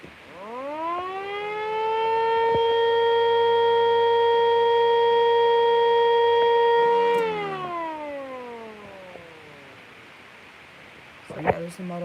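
A Federal Signal Model 2 civil defense siren, run on a hard floor, winds up into a loud, steady wail, holds it for several seconds, then winds down and fades, with a sharp click at the end.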